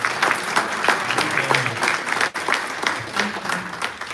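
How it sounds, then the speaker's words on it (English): A room of attendees at a community tea event with a trustee and mayor gives a round of applause, close, lively clapping with uneven swells, a brief dip midway, and faint voices mixed in. "let's give a Dolton round of applause."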